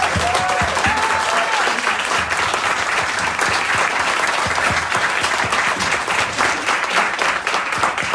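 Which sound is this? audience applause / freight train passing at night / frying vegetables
audience applause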